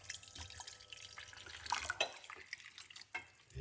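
Hot water is poured into a cup, a faint, close trickle with small drips and splashes at low volume, with no talk.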